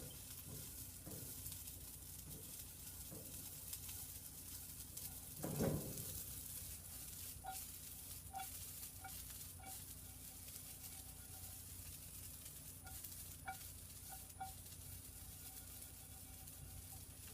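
Broccoli sizzles steadily in a skillet for an omelette, a soft continuous fry with a brief louder stir or shuffle partway through, alone without talk.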